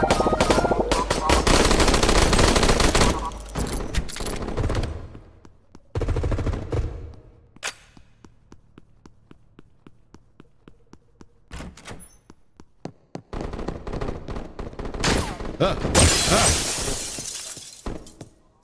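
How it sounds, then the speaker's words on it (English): Gunfire in the video game HOLE: loud bursts of shotgun blasts and rapid shots with glassy shattering impacts, quieter clicks and pauses between, then heavy firing again toward the end, with faint speech. "That's a shotgun."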